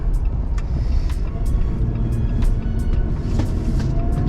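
A supercharged 2021 Jeep Gladiator Mojave accelerates hard with its tires spinning: a loud, dense, continuous engine roar and rumble heard from close range, with scattered ticks and hiss on top.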